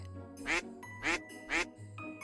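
A squeaky rubber duck toy gives three evenly spaced honking quacks, close and clear, followed by a brief lighter squeak, with no talking over it.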